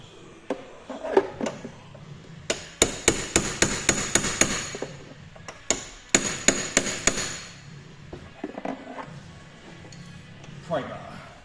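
Hammer blows ring out during a Toyota Celica SSII engine and gearbox swap, two quick bursts of sharp metallic strikes in steady rhythm, close and loud, with workshop noise and a voice talking around them.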